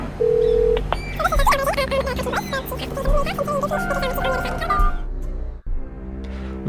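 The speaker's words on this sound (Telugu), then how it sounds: "మనోడు ఫోన్ చేసి పిల్లని పిలుస్తున్నాడు" Telephone dialing in the video game Palm Sugar: a sustained tone, then a quick run of key beeps and ringing tones over a steady background hum, ending with a click.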